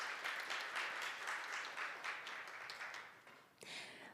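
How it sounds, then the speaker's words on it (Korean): Audience applause at a conference on AI and user protection, a moderate wash of many hands clapping at a distance that slowly thins, then swells briefly again toward the end. "여러분, 큰 박수 부탁드립니다."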